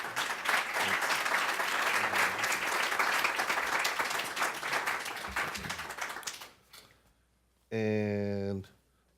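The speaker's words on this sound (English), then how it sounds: "Please give my panel a round of applause." An audience at an education event applauding a panel, sustained dense clapping that fades out after about six seconds, followed by a short burst of a single voice.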